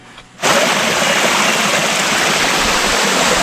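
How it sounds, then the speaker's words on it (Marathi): A hillside stream runs downhill through the forested countryside near Ambavali, Mandangad. After a brief quieter moment, it becomes a steady, close rushing of water that continues evenly. "तर हा एक वाहाळ लागलेला आहे आणि असं पाणी खाली चाललं आहे"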